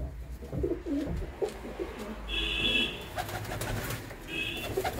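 A pair of pigeons, a red cock and a blue hen, coo in low, rhythmic phrases close by, with brief higher tones and ambient hum behind.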